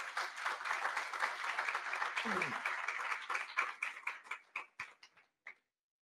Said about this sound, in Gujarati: એના માટે જોરદાર તાળીઓથી આપણે વધાવીએ